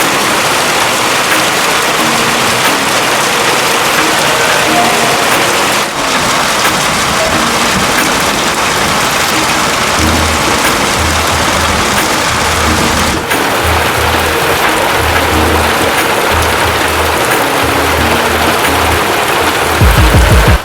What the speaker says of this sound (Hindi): काफ़ी दिनों बाद बारिश आ रही है